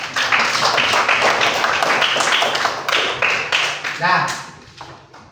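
Schoolchildren in an Indonesian classroom clap together in a short burst of fairly near, rapid clapping with voices mixed in, fading out near the end.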